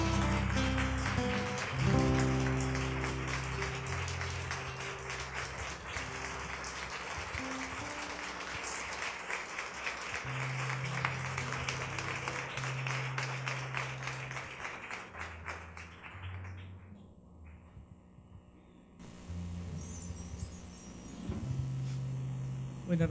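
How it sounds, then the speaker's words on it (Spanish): A church congregation claps loudly in honour of the word of God, the dense clapping mixed with sustained musical tones, then thinning out into a few scattered sounds near the end. "un aplauso bien fuerte a la palabra de Dios"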